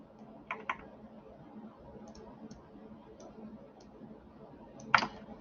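A few sharp computer mouse clicks in Autodesk Inventor: a quick pair near the start and a single, louder click near the end, over a quiet room hum with no talking.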